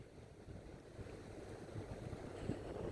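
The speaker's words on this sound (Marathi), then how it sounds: "ते पहा इथं कशा लाट येत आहे." Sea waves wash in at Nagoa Beach, a soft, continuous surf roar mixed with wind noise on the microphone, slowly swelling with a brief stronger surge near the end.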